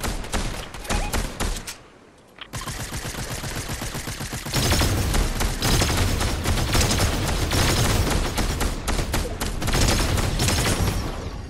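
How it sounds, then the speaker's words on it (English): Rapid gunfire in Fortnite, loud bursts of automatic and repeated shots crackling almost without pause, briefly thinning out for a moment before resuming denser and heavier. "It's definitely you shooting at us again"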